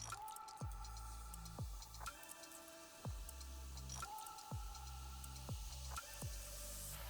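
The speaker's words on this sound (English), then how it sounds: "now I'm going to pour the Coca-Cola" Coca-Cola poured over chicken breasts in a pot, heard as close, bubbly liquid sounds with repeated dripping and splashing plops at an uneven rhythm, with no talk over them.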